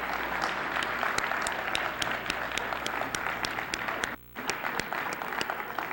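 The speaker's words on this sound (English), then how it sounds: "let's give them a round of applause for taking time out of their busy schedule to attend this today" Steady audience applause for Malcolm X Academy members at a Malcolm X legacy event, continuous crowd clapping with a few distinct sharp claps and a momentary dropout near the end.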